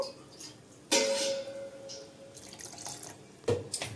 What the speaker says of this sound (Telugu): ఇప్పుడు ఇంకా దీంట్లో నేను కొద్దిగా వాటర్ అనేది యాడ్ చేస్తున్నాను.